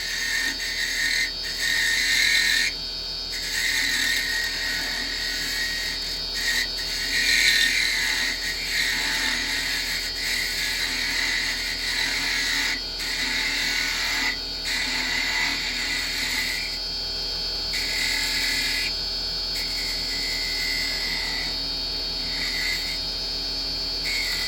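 A carbide detail chisel cuts into a clock blank spinning on a woodturning lathe, giving a steady, continuous whirring and scraping hum with a high whine that carries through the whole stretch at an even level.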